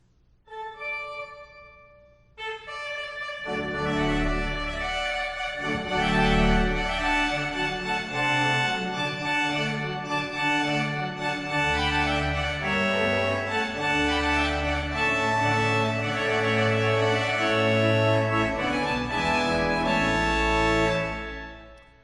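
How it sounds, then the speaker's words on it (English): A pipe organ sounds its loud, brassy tuba reed stop, full sustained chords rolling steadily after a brief soft opening, with no voices. "The tuba on the organ."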